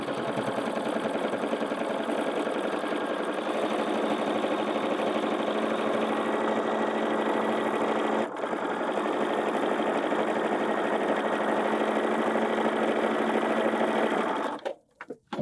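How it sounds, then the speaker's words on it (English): A sewing machine stitches quilt sashing through all layers at once, running as a continuous steady mechanical whir with a very brief dip midway, then stopping abruptly near the end. "And now I'm going to stitch this on. And I'm stitching all layers all at once."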